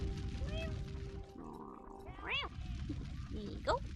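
A person imitates a cat's meow vocally, producing a few rising and falling mewing cries among other vocal noises during a Star Fox Adventures play session.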